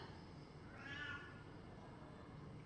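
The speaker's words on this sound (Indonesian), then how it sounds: "Ada kucing." A cat meows once, faintly, in the background over steady room noise during a class session.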